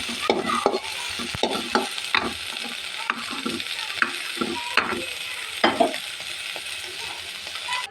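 Dried fish (shutki) fries in a pan with a steady broadband sizzle, punctuated by repeated close scraping and stirring strokes of a spatula against the pan, with no talking.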